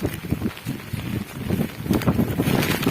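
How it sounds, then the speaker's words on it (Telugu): Steady storm wind gusts buffet the microphone in a constant low rumble during a cyclone, rising and falling, with no talking. "గాలి మాత్రం తోలుతా ఉంది"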